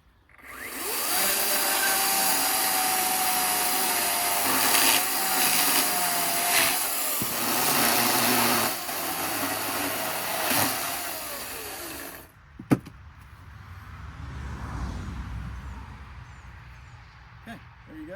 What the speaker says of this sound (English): The Ryobi 16-inch 40-volt chainsaw.